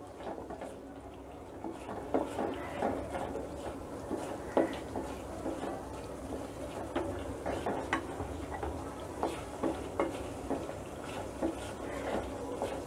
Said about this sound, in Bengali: এখন এটাকে একটু কষাতে হবে।